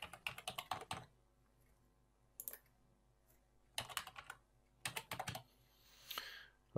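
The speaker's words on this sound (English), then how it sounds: "Then type in your password." Password typed on a computer keyboard during a disc-encryption setup, heard as quick bursts of close, crisp key clicks separated by short pauses, with a longer softer rustle near the end.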